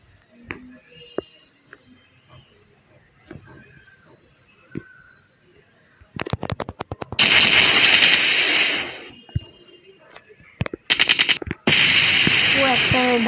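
Bursts of gunfire from a shooting video game, with quiet gaps and scattered small sounds giving way to loud rapid automatic volleys and sustained roaring fire in the second half.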